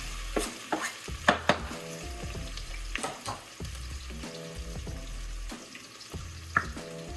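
Onions frying in hot oil in a pot for chicken tortilla soup, a steady soft sizzle under scattered stirring knocks and scrapes, close and fairly quiet with no talking.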